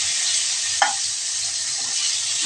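Magur fish frying in a pan: a steady, bright sizzle of hot oil runs throughout at close range, with a single short scrape or stir near the start and faint clinks later.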